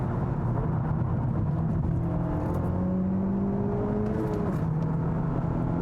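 A Honda Civic Type R's 2-liter turbocharged engine drones steadily while driving, its pitch climbing under load before dropping sharply as if on a gear change, then settling. Heard from inside the car, with constant road and wind roar underneath.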